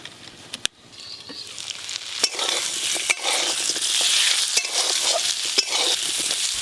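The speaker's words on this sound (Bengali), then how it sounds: "হলুদ গুঁড়ো, চাপা দিয়ে কচুগুলো খুব ভালো করে ভাজবো" Taro chunks fry with salt and turmeric in a pan, giving a steady, dense sizzle that builds and holds, broken by a few sharp clicks of stirring.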